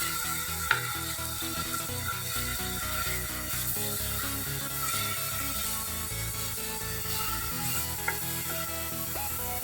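Onions softening in a pan while preparing potato bread snacks, a steady sizzle and crackle that runs throughout with no talk, broken by a couple of faint clicks or taps.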